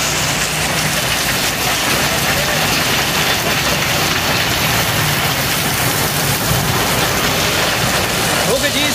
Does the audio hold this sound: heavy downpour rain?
yes